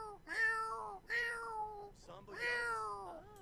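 A pet cat in The Sims video game meows three times, drawn-out, rising and falling calls at close range, with soft game ambience underneath.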